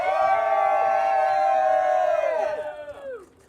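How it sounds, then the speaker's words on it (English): Wedding guests at a Canopy Grove wedding cheer and whoop for the kissing couple, a loud sustained crowd roar with shouts that tapers off near the end. "Everyone you guys go ahead and kiss one more time and everyone cheer for them."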